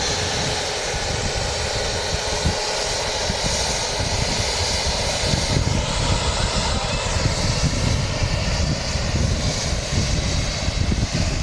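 A World2Fly Airbus A350 on a repositioning flight arrives at Manchester Airport, its engines producing a loud, close, sustained roar with a whining tone that builds slightly midway and holds steady to the end.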